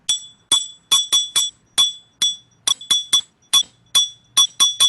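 A household glass is tapped repeatedly, giving about fifteen bright, ringing clinks in an irregular rhythm, each with a short decay, close and clear in a quiet room.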